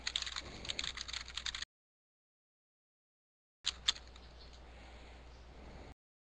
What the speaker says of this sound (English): Somebody's typing furiously.